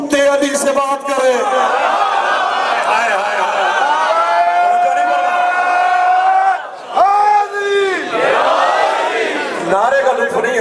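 Crowd at a Muharram majlis raising religious nara slogans together, a loud sustained chorus of voices with rhythmic chanting swells, briefly dropping near the end before resuming.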